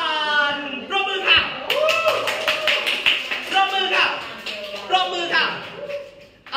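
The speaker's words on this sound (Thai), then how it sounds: "ปรบมือค่ะ" Scattered hand claps from an audience at a live-streamed show for a bird's nest drink brand, mixed under a woman's ongoing speech and fairly close.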